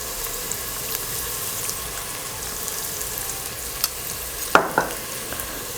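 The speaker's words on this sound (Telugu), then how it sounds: "మనం మిక్స్ చేసేసుకోవాలి" Mushroom and capsicum curry with turmeric being stirred as it fries in a pan, a soft steady sizzle with a couple of brief scraping strokes near the end.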